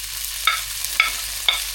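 Garlic and onions fry in a little oil in a pan while they are being stirred. A spoon gives three sharp, evenly spaced metallic clinks against the pan over a soft, steady sizzle.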